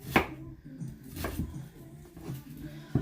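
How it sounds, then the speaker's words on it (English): Sharp knife chops land on a cutting board at an irregular pace as vegetables are cut into bite-sized pieces, several close taps in a row. "So I'm just cutting this up into bite-sized pieces."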